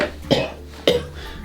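Two separate coughs from a person, about half a second apart, each a sharp loud burst close to the microphone against a quiet background.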